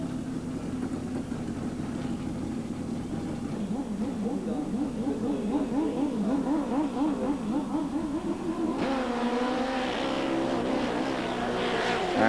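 Grand Prix class drag racing motorcycles run an eighth-mile at Hockenheim Nitro Olympics 1992, heard as a continuous droning engine note that rises and wavers in pitch, then swells louder and brighter as another bike takes over late on.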